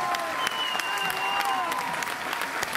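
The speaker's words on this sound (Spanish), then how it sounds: "¡Que siga ese aplauso bien fuerte!" A street crowd applauds steadily during a carnival Llamadas parade in Mercedes, Uruguay. Dense, continuous clapping holds at an even level, with faint whistles and tones mixed into the mass of applause.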